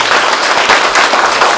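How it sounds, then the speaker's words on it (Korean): Applause from the audience at a social welfare graduation ceremony in Boryeong, a loud, steady wash of many hands clapping continuously throughout, with no talk over it. "큰 박수 한번 부탁드리겠습니다"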